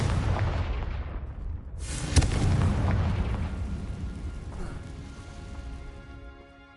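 Confringo spell explosion in Hogwarts Legacy: a rumbling blast with a sharp crack at its peak, followed by a long roaring decay that fades gradually, close and loud.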